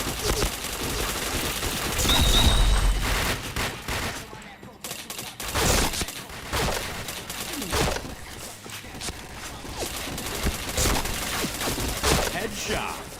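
Rapid automatic gunfire crackles through a shooting video game, bursts of shots rattling in quick succession with a few pauses and game effects between them.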